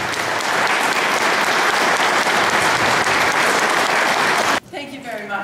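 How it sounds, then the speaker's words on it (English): A room full of people gives Mary a big round of applause at a Sierra Club gathering in Victoria Harbour, Georgian Bay, the dense clapping steady and loud before breaking off sharply near the end as a voice starts speaking. "Let's have a big round of applause for Mary."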